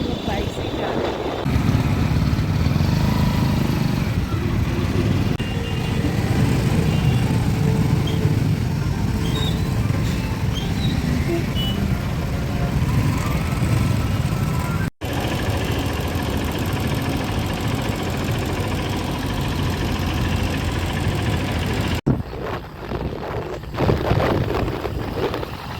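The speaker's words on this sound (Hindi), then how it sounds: "इसलिए हम लोग बाइक से ही जा रहे हैं।" A motorcycle rides along a road with a steady engine drone, mixed with strong wind buffeting. People talk over the noise throughout.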